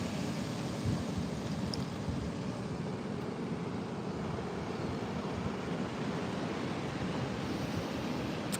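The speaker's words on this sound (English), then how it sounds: "I hope you enjoyed watching the surfers, listening to the waves" Ocean surf with surfers out on the water: a steady, broad wash of breaking waves rolls on at moderate distance, continuous and without speech.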